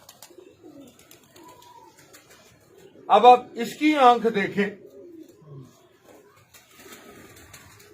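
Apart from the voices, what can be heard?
pigeon cooing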